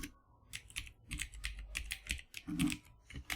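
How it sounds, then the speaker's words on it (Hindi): Typing on a computer keyboard to enter a company name in accounting software, a quick irregular run of close, soft key clicks with brief pauses, no voices. "अब वो यहाँ पे आप टाइप कर सकते हो"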